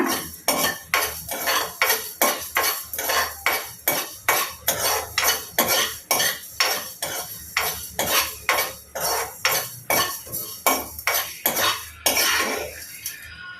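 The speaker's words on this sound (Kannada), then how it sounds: "ಡ್ರೈ ರೋಸ್ಟನ್ನು ಮಾಡ್ಕೊಳ್ಳೋಣ ಕ್ಲೀನಾಗಿ ಹುರ್ಕೊಳ್ಳೋಣ" Fenugreek seeds and spices dry roasting in a pan, stirred with a metal spoon that scrapes in a steady rhythm of about two sharp strokes per second, close and loud with no speech.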